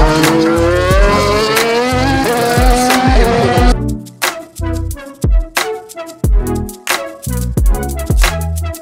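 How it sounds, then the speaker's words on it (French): A Mercedes Formula 1 car at the 2019 French Grand Prix accelerates hard with a loud, rising, high engine whine, followed by choppy, pulsing bursts of engine noise. "C'est hyper impressionnant la manière dont la Mercedes elle réaccélère."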